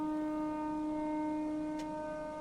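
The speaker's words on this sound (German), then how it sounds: "Sirene wieder und dann geht sofort das Licht an." In the horror video game Don't Scream, a steady siren drones on evenly through a constant background hum, holding one unbroken pitch for the whole stretch with only a brief faint tick near the end.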